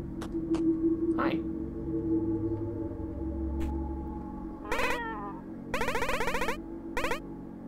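A cat meows in the Momodora: Reverie Under the Moonlight video game, a few short clear meows near the end over a quiet droning game backdrop with brief clicks.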